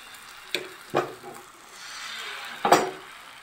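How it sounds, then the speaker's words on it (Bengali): Patishapta crepe batter poured onto a hot ghee-greased griddle gives a few soft taps and a brief, quiet hiss of frying, close by and with no talk. "এবার পাটিসাপটার ব্যাটারটা দিয়ে দিচ্ছি।"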